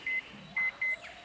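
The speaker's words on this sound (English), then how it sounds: "I mean, the beeping's nice." Three short electronic beeps ring out in an uneven rhythm, two close together after the first, thin and moderately loud over a faint outdoor hush in a mountain car park.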